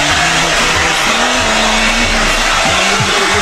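A hair dryer blows loud and close for the whole stretch, a steady roaring whoosh with a wavering motor whine that shifts slightly in pitch, nothing else breaking through.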